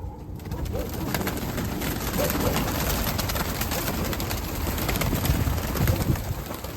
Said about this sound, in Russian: Хорошие голуби, ничего не скажу.